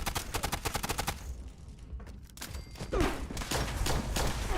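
Gunfire from the video game Fallout 76 comes in rapid automatic bursts, fades briefly into a lull, then resumes as a denser run of shots. The whole exchange is fairly quiet.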